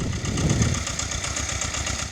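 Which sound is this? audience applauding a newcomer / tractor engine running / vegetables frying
tractor engine running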